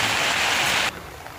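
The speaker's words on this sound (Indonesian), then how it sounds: "Karena hujan ini." Heavy downpour drenching an outdoor campsite near a bathing spot, a dense broadband hiss that cuts off abruptly partway through, leaving a quieter, thinner wash of rain.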